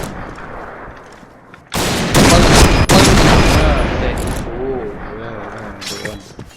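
Barrett M82A1 sniper rifle gunfire in the Point Blank online shooter game, loud bursts of in-game shooting and action noise running through most of the clip, with someone talking over it.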